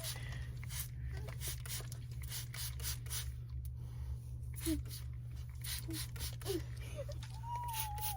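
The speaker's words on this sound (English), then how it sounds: "I'm spraying water" Quick repeated spritzes from a spray bottle, many short bursts in an irregular rhythm over a low steady hum.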